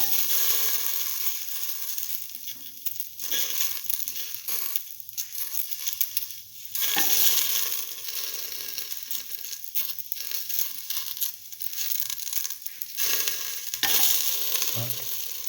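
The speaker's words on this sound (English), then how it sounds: "Now put in the okra pieces." Okra pieces sizzle and fry in a pan, with steady crackling spitting and repeated scraping stirs throughout, no talking.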